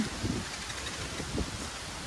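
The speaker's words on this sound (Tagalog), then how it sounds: "Lakas ng hangin" Strong gusts blowing across a farm field during harvest, a steady broadband rush of wind buffeting the microphone with faint rustling and no talk.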